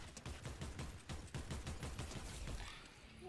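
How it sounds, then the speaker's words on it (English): Rapid bursts of automatic gunfire in a Fortnite match, dense and continuous, with repeated shots overlapping throughout at steady loudness. "Bro, who's shooting?"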